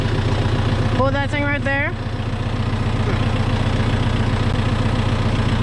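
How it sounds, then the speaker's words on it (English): A Kubota M6040 tractor's four-cylinder engine idles with a steady, close, loud low chugging throughout, while someone speaks briefly over it. "Without further ado, let's drive a tractor."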